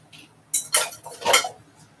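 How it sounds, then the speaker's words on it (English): Dishes and a bowl clatter as they are stacked in a kitchen, three or four sharp close clinks of crockery and cutlery in quick succession, with no voices. "I need to get the dishes elsewhere."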